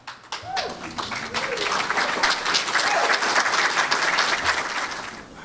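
A crowd bursts into loud, sustained applause that swells and continues steadily, with a voice briefly heard at the start.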